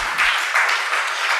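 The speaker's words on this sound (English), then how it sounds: "So a round of applause to Ron." An audience at a science conference applauds a panel presenter, giving a dense, sustained burst of clapping that swells slightly in waves over a short span.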